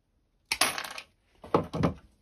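Metal strapping plate being bent and cut to length while making duct connections for a home heat exchanger, giving two short, sharp metallic bursts, a clinking snap followed by a louder double clack, close and alone.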